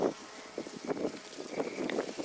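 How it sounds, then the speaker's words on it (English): Honeybees humming around an opened hive on a chilly, cloudy Colorado homestead, a soft continuous buzz close by with a few louder swells from individual bees passing near. "I'm going to put these bees back in."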